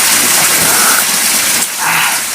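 Heavy rain pours in a steady, loud broadband wash throughout, with a brief dip near the end before the downpour resumes at full strength.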